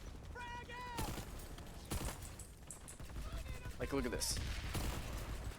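Rapid weapon bursts in the shooter game Planetside 2, several sharp separated volleys of gunfire heard under someone talking over them.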